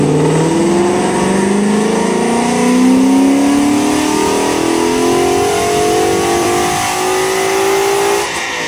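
A loud twin-turbo 2013 Ford Mustang GT engine with no exhaust, on a dyno, climbs steadily in pitch for several seconds, revving hard and close, then cuts off abruptly near the end.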